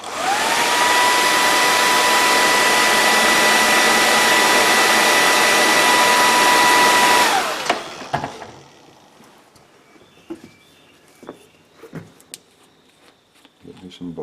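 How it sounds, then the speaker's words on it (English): A hair dryer blows with a loud, steady whirring roar for several seconds, then cuts off, leaving faint clicks and light handling noises. "to speed up the process here, I'm going to get my hair dryer."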